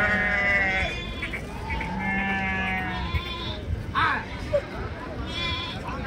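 Sheep bleating at the Angallu livestock market, several wavering cries rising over one another amid steady talk and crowd bustle.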